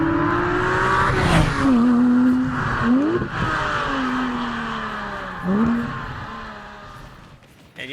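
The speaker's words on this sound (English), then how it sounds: "What was the sound of a Porsche driving by?" A Porsche driving by plays as a stream alert, its engine revving through several rising and falling gear changes with a brief tire squeal, loud and close, then fading at the end.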